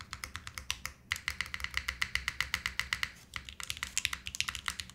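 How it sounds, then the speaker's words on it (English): Rapid mechanical keyboard typing, crisp clacky keystrokes in a quick, slightly uneven rhythm, close and clear with no talking. "Ooh, this keyboard sounds delicious though."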